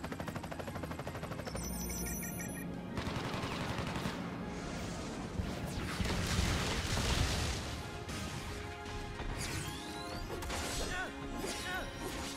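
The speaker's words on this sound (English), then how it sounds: "Let's hit him with that airstrike." An airstrike attack in Crisis Core: Final Fantasy VII Reunion strikes in a loud barrage of crashing impacts and rapid blasts over game music, rising into dense bursts midway before trailing off.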